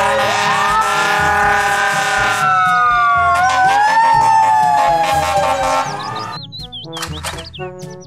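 Toy fire truck siren wails loudly and steadily with rising and falling tones, then stops and gives way to quick chirping electronic beeps near the end.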